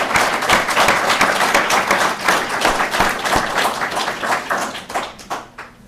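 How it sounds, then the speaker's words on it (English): An audience at a Hyde Park Veterans Day ceremony in 2018 gives a round of applause: brisk, close, dense clapping that stays strong, then thins out and fades over the last second or so. "Let's give a round of applause for John Golden."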